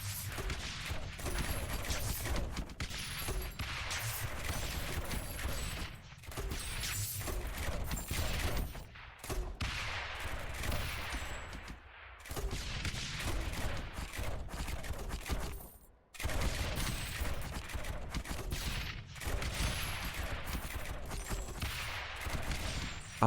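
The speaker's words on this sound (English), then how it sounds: "Oh, the mortars are just so satisfying, though, right?" Mortars firing in a video game, a continuous barrage of loud booming shots and explosions layered densely throughout, with only a couple of brief drops in the onslaught.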